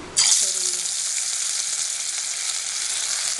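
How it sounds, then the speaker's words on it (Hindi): Fish lands in hot mustard oil with a sudden burst of sizzling that stays strong and steady to the end. "देखिए तेल गर्म हो गया उसमें अभी ये मछली हम फ्राई"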